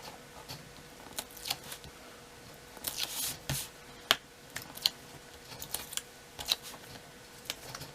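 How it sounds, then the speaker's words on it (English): Backing being peeled off adhesive tape on the corners of a paper Easter window box, a series of quick crisp crackles and ticks spread irregularly at close range, with no talk. "I'm going to come along and take all the backing off the tape on all the corners."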